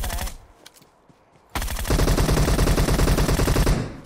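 Automatic weapon fire in the PUBG Mobile battle royale game, a sparse scatter of single shots followed by a sustained loud burst of rapid machine-gun rounds lasting over two seconds.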